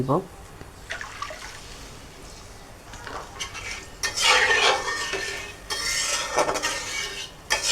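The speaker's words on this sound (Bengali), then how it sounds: "পোস্তদানা বেটে রাখার পর যে পানিটা হয়েছিল সেটা ঢেলে" Water left from grinding poppy seeds is poured into a hot pan for a chital fish dish, a close burst of splashing and hissing sizzle after quiet moments and brief utensil sounds, with a voice speaking faintly.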